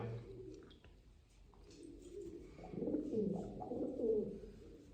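Soft, low pigeon cooing close by, a few gentle burbling calls that grow slightly louder toward the end.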